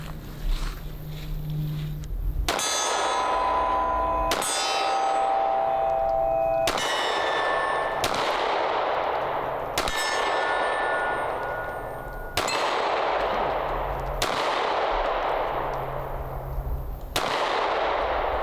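Springfield Hellcat Pro Comp pistol firing at steel targets, seven sharp, loud shots spaced roughly two seconds apart, each followed by a ringing metallic clang and a long decay, faint voices in the background.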